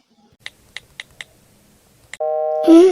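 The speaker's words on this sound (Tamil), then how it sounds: "ரிங் போகுது." A mobile phone call placed to a friend: several short keypad taps, then a steady electronic ringback tone, loud and close, running into a burst of music or voice at the end.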